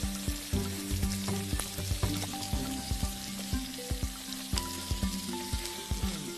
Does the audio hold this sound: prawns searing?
yes